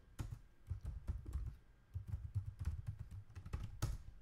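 Someone types a password on a computer keyboard at a Linux terminal, giving bursts of quiet, close key clicks with short pauses between runs of keystrokes.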